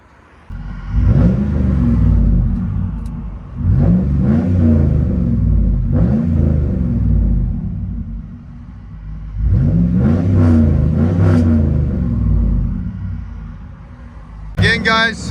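Straight-piped 4.7L V8 of a 2007 Ram 1500, lowered with dumped tips, heard from inside the cab: several deep rumbling revs rising and falling in repeated bursts, loud and close, with a pause midway.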